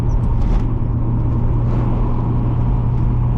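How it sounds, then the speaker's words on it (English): A 1989 Mazda Miata engine held at full throttle below its power band, droning steadily and loudly from inside the car with a constant low rumble and no talking. "that's full throttle right there"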